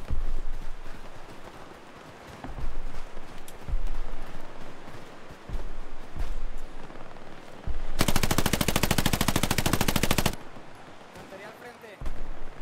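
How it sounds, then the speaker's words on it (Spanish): Machine gun fire in the video game Hell Let Loose on Omaha Beach: scattered single gunshots and thumps, then one loud, sustained rapid burst lasting a couple of seconds, followed by further distant shots. "¡Ametralladora a las tres!"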